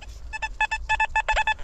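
A metal detector sweeps while treasure hunting behind old houses once lived in by Jews, giving a series of short, bright electronic beeps in quick irregular pairs, close and clear with no talk.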